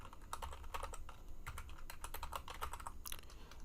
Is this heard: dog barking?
no